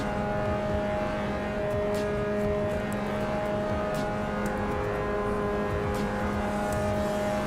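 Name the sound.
race car engine bogging in Assetto Corsa Evo video game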